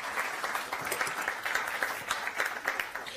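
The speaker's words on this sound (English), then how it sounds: "Please give her a warm round of applause." An audience at a trade and sustainable development plenary session gives steady, moderately loud applause for a few seconds, with no voices over it.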